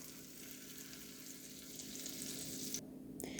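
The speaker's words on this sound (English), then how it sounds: "I'm just going to put just a small sliver of butter into my pan and let it melt" A small sliver of butter melting in a pan before an omelette, giving a soft, steady sizzle that stays faint and even throughout, with no voices.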